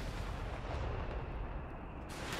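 Mortar fire in the Company of Heroes 3 video game, a dense booming rumble of artillery that fills the whole moment, loud and sustained without speech.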